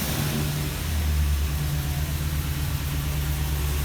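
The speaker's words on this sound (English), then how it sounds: "And for remote start, we push the start button one time. The remote whistles," A 2015 Ford E-350 van engine idles steadily after a remote start, a continuous low hum with no voices.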